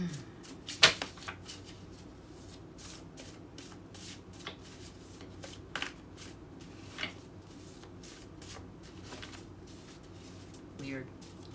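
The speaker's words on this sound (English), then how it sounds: "Let's do 6 cards, Donna's Destiny" Tarot cards are shuffled by hand in a steady run of crisp riffling and sliding bursts, close and fairly soft, with a sharper snap near the start and continuous card handling throughout.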